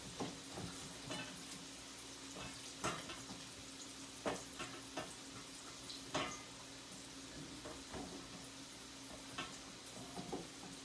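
Eggplant slices browning in a pan give a steady low sizzle with scattered pops and crackles, plus occasional scraping clicks of a utensil, fairly quiet and close with no voices.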